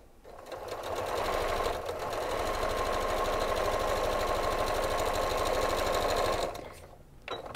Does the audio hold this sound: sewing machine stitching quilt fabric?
yes